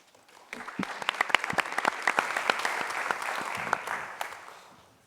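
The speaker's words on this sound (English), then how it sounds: "we want to hear your applause as loudly as we hear the local applause right now" An audience at a pitch competition claps enthusiastically, a dense patter of hands that swells quickly and then tapers off over a few seconds.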